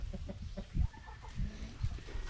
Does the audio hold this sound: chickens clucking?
yes